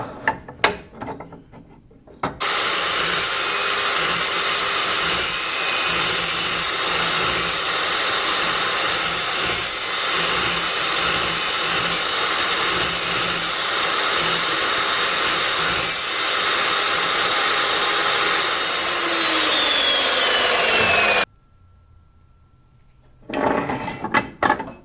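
An Evolution S355-CPSL 14-inch metal cutting saw bites through a 3/4 steel bolt, a loud steady whine and grinding rasp holding for nearly twenty seconds before cutting off abruptly, with the motor spinning down alone.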